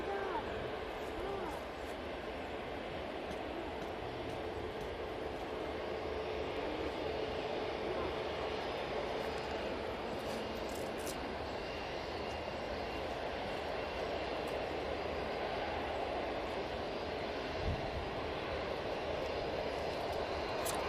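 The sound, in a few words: Vueling airliner departing Manchester Airport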